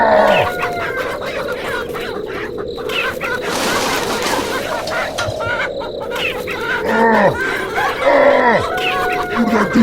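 Chickens and a rooster cluck and crow in a loud, busy farmyard, with several overlapping calls throughout, under a person shouting and talking over them.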